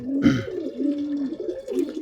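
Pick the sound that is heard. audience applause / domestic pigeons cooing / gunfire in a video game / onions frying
domestic pigeons cooing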